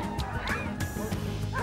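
Sled dogs at a snowy dog-sledding race bark and yip in quick, overlapping bursts, loud and close, with excited whimpering mixed in.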